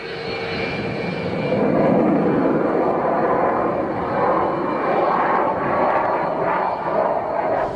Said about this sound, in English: The jet hangs vertically for what seems like minutes.